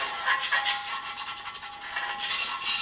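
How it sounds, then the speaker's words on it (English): A flat screwdriver scrapes caked, hard dirt and sawdust off a Kubota engine from a stump grinder, making a close, continuous rasping scrape in quick, uneven strokes with no talk. "I'm just using a flat screwdriver because that's hard dirt"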